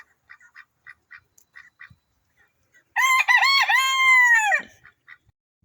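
Backyard chickens and ducks: soft, brief clucks and quacks are scattered across the clip, and a loud, drawn-out crowing call rings out in the middle before the quieter clucking resumes.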